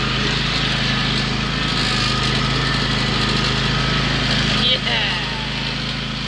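Old-version John Deere X350 lawn tractor engine droning steadily and loud as it drives up a hill, with a brief spoken word near the end.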